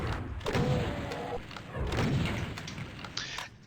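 In classic DOOM, a Revenant teleports in after a switch press: a booming, noisy warp burst with a brief tonal whine, then a second rumbling surge, loud and close.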